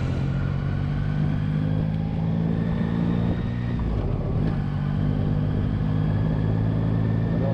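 A Yamaha Tracer 9 GT three-cylinder motorcycle being ridden, its engine a steady loud drone with a deep low rumble and a faint high whine, holding a constant pace with no voices.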